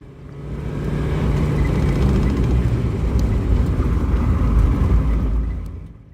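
A Porsche engine pulls hard at a Porsche Club of America autocross, giving a loud, steady low roar that swells and holds throughout, heard from inside the car with no talk over it.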